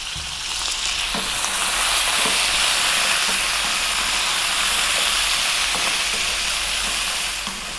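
Potatoes and fresh chilies frying for a beef curry over lively heat, a loud continuous sizzle and hiss with faint stirring clicks, close up and steady throughout.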